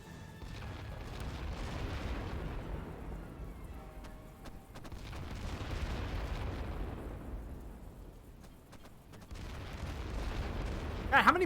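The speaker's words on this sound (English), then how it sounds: "God, how many mortars do you guys have?" Mortar fire thunders across a World War I battlefield in The Great War Western Front game, repeated deep booms swelling into long rolling rumbles, with crackling impacts layered over continuous low battle noise.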